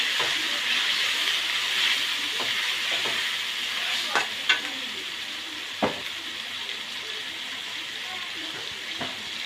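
Shrimp sizzle steadily as they fry in a pan with taro stolons, a continuous hiss broken by a few sharp clinks and scrapes of stirring, with no voices.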